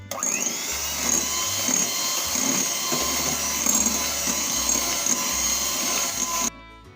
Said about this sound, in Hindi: और दोबारा से बीटर चलाएंगे।